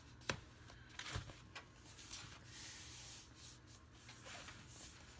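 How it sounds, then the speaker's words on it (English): A finger rubs along the crease of a book cover during hand binding, giving a soft, close, faint papery friction with a few sharper brushing strokes early on and steady quiet rubbing afterward. "You can just rub your finger along it, and you just want to get your book to bend."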